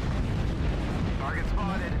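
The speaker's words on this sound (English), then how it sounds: "Artillery strike." Artillery strike explosions from a MechWarrior battle: a dense, continuous low rumble of impacts with a brief whistling tone over it, steady and loud throughout.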